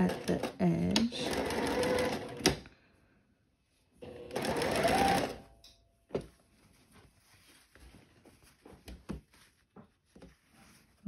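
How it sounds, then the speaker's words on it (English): A sewing machine sews a half-inch seam along the edge of floral sundress fabric in two steady bursts of about two seconds each, with short quiet pauses between them and faint handling noises afterward. "sew a little 1/2-inch seam at the edge"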